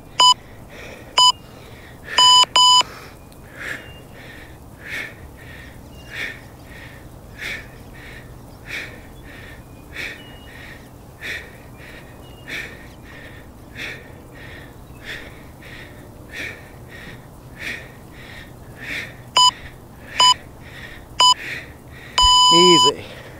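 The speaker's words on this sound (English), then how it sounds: "Always go to the long beep." A workout interval timer sounds clusters of short electronic beeps at the start, near the end, and a long final beep during a kettlebell session, with rhythmic breathing and movement between them.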